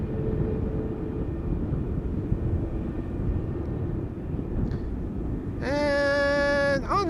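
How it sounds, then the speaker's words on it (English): A Delta Airlines airliner departs Amsterdam Schiphol Airport as a steady, distant jet roar, joined near the end by a louder, rising whine with strong tones. "Delta Airlines flight 179 going to Jerry's hometown of Portland in Oregon."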